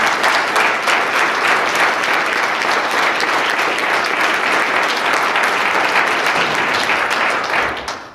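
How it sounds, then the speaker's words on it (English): A church congregation gives a sustained round of applause for a charity organization, dense loud clapping filling a large hall for several seconds before fading at the end. "So just round of applause for the organization."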